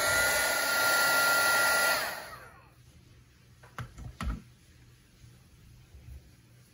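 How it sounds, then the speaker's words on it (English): A handheld heat embossing tool blows hot air to melt embossing powder on a stamped card, making a loud steady whirring roar for about two seconds before it switches off, followed by a few soft knocks in a quiet room. "So I've got an embossing tool here, a heat embossing tool."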